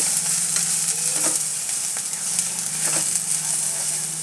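Onion-garlic chutney masala with turmeric and salt fries in a pan with a continuous close sizzle, interrupted by light stirring taps and scrapes.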